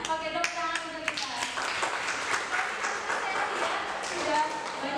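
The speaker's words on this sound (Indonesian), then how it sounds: "tepuk tangan untuk kita" Classroom applause with many hands clapping together in a dense, steady burst that lasts throughout, close by with voices mixed in.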